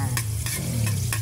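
Garlic frying in a pan for a salted pasta dish, a close, even sizzle with several brief scraping strokes of a utensil at regular intervals, no voices.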